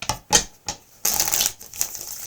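Tarot cards are shuffled by hand in short bursts, with sharp, close riffling flutters and crisp snaps separated by brief pauses.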